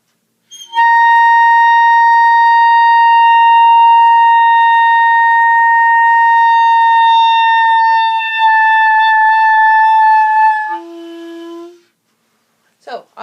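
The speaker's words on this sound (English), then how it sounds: "I'm going to start with the clarinet obviously too close to my body" Clarinet playing a single long sustained note with a steady, pure tone that shifts slightly in color partway through, then breaks into a brief lower note before cutting off, close and loud.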